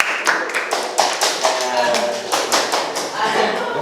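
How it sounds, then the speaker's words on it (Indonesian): Audience applause for a guest on a podcast, a run of irregular hand claps and taps spread across the moment, moderately close with a roomy texture and no talk over it. "tepuk tangan buat Mas PI ya."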